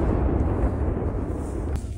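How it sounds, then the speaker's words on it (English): A FAB aerial bomb explodes on military positions, producing a heavy, deep, rumbling roar that fills the short stretch and settles into a sustained low boom with no talking. "The Russian Air Force blew up Ukrainian positions with FAB bombs."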